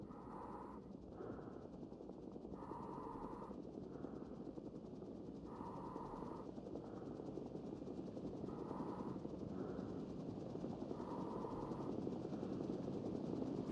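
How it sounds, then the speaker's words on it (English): Helicopter in a video game, hovering close overhead with a steady, loud rotor and engine drone that never lets up, its wash filling the scene without pause. "I can hear the helicopter from overhead"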